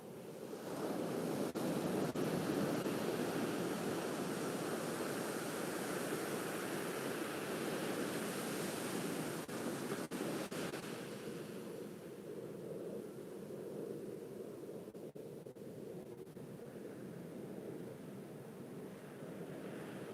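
Ocean waves surge and crash steadily at Newport Beach at sunrise on Christmas Day, a dense, continuous roar that eases slightly toward the end, with wind rushing over the microphone and no talk.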